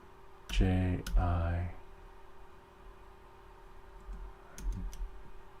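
A few quick keystrokes on a computer keyboard entering a search, heard near the end after a stretch of speech, soft and close against a faint steady hum.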